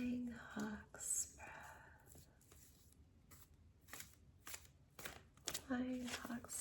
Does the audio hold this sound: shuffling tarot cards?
yes